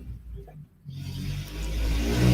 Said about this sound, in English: Woo, loud car.